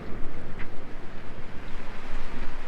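A sailboat motoring under engine power at sea, a steady low engine drone mixed with wind buffeting and water wash, moderately loud and continuous with no voices.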